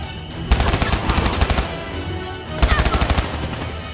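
Rapid bursts of automatic gunfire in Call of Duty Black Ops 3, loud and close, with two dense volleys separated by a brief lull.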